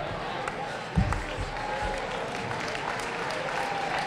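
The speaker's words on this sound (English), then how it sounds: "one more round of applause for" An audience at a Miamisburg Hall of Fame induction ceremony applauds, a steady wash of many hands clapping in a hall, moderately loud and continuous, with a bump near the start.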